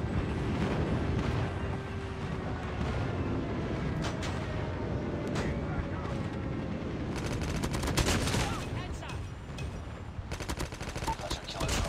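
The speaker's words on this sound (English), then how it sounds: "Enemy airstrike incoming" Enemy airstrike explosions rumble through a Call of Duty Mobile match on the Sinners Bay map, a loud, continuous barrage of blasts mixed with rapid gunfire and crackling bursts that keeps going throughout.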